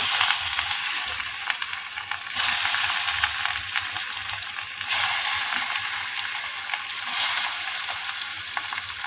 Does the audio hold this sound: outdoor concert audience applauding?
no